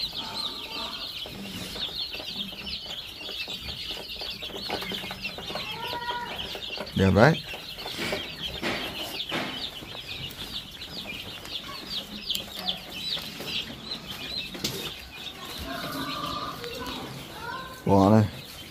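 Chickens on a farm cluck and chatter continuously throughout, with occasional louder calls, while people talk over the flock.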